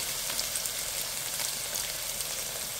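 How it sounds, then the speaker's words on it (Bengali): Onion and ginger fry in hot oil in a wok, on top of garlic that has already browned. A close, steady sizzle and crackle continues throughout with no talking. "এখন পেঁয়াজ আর আদা দিয়ে দিলাম,"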